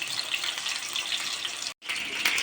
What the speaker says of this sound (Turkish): Daha sonra pişecek kadar suyunu ilave edeceğim.